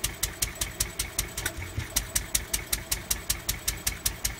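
A Lister D stationary engine idles with a steady, even chuffing beat of sharp exhaust pulses, about four per second, close and alone.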